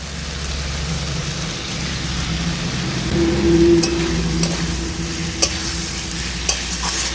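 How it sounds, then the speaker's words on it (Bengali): Spinach and spring onion greens stirred with ground coriander, chili and cumin in a hot pan, a continuous close sizzle with scraping strokes and a few sharp clinks of the spoon against the pan. "এবার মশলার সাথে শাকটাকে বেশ কিছুক্ষণ একটু নেড়ে চেড়ে নেব"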